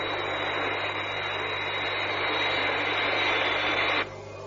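Steady, loud aircraft engine roar with a high whine, part of a 1990 Thunderbirds radio drama, holding constant for about four seconds before cutting off abruptly to a quiet hum.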